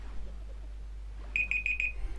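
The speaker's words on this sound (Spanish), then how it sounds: "Está sonando la alarma." An alarm sounds in the mobile game Clash Royale: four quick, bright electronic beeps in an even rhythm over a steady low hum.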